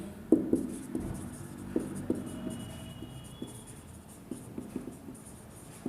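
A teacher writes notes on a board during an accounts class, with a run of light tapping and scratching strokes at an irregular rhythm, close and fairly quiet, and no one speaking.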